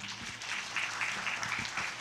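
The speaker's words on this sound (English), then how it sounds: "Big applause to Mr. Thomas" Applause from a seminar audience for a speaker, a short stretch of fairly faint, distant clapping with soft individual claps poking through a muffled room.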